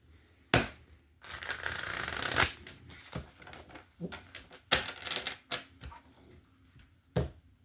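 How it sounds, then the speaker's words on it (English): Tarot cards cut and shuffled by hand: sharp riffling bursts and a longer fluttering shuffle, then several quick slaps and taps of the deck, close and fairly quiet. "Cutting the deck again."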